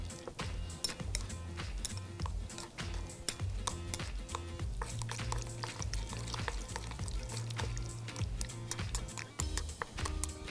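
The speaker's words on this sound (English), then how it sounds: "I like to mix it up with some trusty chopsticks." Chopsticks briskly stir a marinade with sesame oil and cornstarch, giving a steady run of rapid clicking taps against the bowl, close and continuous, over a low sizzling background hum.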